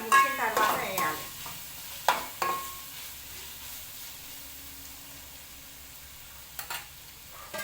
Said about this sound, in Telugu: మధ్యలో కలుపుతుండాలి